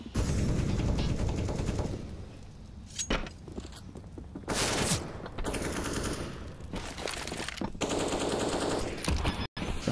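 Gunfire in a Counter-Strike match on the Vertigo map, with loud, close bursts of rapid automatic fire and single shots, separated by brief quieter gaps and mechanical clatter.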